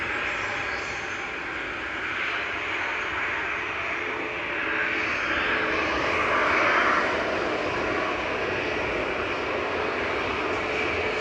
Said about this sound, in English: 25-year-old A321 Classic there of Lufthansa with flight 2503 back over to Bavaria